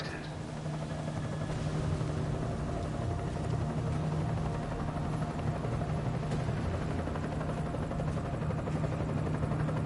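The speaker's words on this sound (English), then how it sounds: "Enemy helo sighted." Helicopter in the video game Deus Ex: Mankind Divided, a steady rotor and engine drone holding at the same loud level throughout, with faint radio-style game voices and music layered over it.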